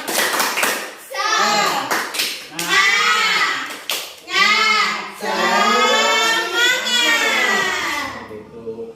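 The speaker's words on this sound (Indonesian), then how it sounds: "dari yang siang hari ini kita laksanakan tepuk semangat" A group of students in a school group-guidance session perform the rhythmic tepuk semangat spirit clap, with a few sharp claps at the start, then loud chanted young voices carrying the pattern.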